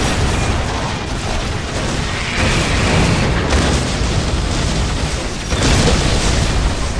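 Heavy battlefield explosions and sustained fire in the Warhammer 40K video game, a loud, dense wall of booms and rumbling blasts that rolls on without a break.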